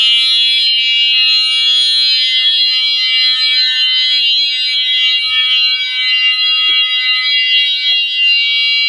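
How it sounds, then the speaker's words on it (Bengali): An anti-theft alarm device in a cow shed blares a continuous, loud, high-pitched electronic tone that holds steady without a break throughout, with only a few faint knocks in the background. "এটা সামনে যাওয়া মাত্রই কিন্তু অ্যালার্ম বাজা শুরু হবে"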